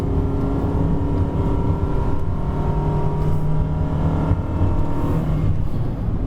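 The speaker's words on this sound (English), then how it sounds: "we'll let the gearbox hunt for it and see what happens" A 2020 Perodua Bezza with an automatic gearbox works through a sharp bend, its engine droning steadily from inside the cabin with gentle rises and falls in pitch as the transmission shifts between second and third gear.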